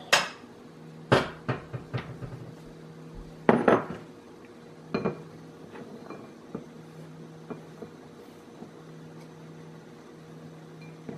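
A little bowl taken out among dishes in a kitchen, several sharp ceramic clinks and knocks spaced irregularly, then fainter taps over a quiet hum, close by with no talk.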